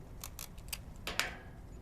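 Scissors snip paper for a paper rocket build in a handful of short, crisp cuts close by, with a quiet gap and then a final pair of sharper snips, no voices.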